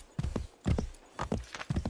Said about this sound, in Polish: może wezwijmy swojego konia